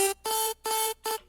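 A vocal chop sample without auto tune plays in four short bright bursts with brief gaps, a clipped choppy rhythm at steady loudness.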